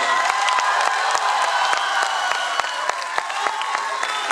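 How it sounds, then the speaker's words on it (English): A school audience at a hockey and football awards ceremony claps with sharp distinct hand claps, cheers and whoops, while a speaker's voice is heard over the crowd. "Once again, a huge round of applause"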